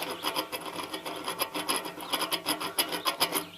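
Worn-out bearings on a Gravely 432 mower deck from 1969 give off a dry, rasping grind that pulses rapidly and unevenly, close and steady throughout without talk.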